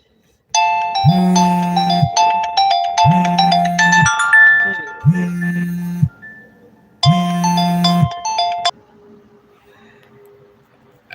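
A phone ringtone plays loud and close: a bright melodic tune in four repeated bursts over about eight seconds, each burst carried on a steady low tone, then it cuts off and near-silence follows.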